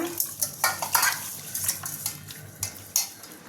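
Raw fish pieces being rubbed and mixed with salt in a bowl before washing, for a fish curry: repeated wet, scraping stirring sounds arrive in uneven bursts, close and fairly loud, with faint clinks of the vessel.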